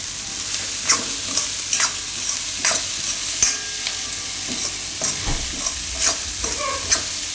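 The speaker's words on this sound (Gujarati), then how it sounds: "તો થોડીક વાર આને પાકવા દેવું આપણે, વચ્ચે વચ્ચે હલાવતા રહેવું." Chopped carrots, cabbage and other vegetables cook for a winter soup in a pot, with a steady soft sizzle and repeated scraping stirs every second or so, close up and with no talk.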